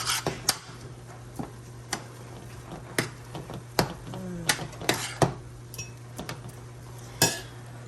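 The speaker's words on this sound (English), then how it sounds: "I'm going to stir this up." Spoon clinks and scrapes against an Instant Pot while two small onions are stirred, in sharp irregular taps over a steady low hum, close and fairly quiet with no talk.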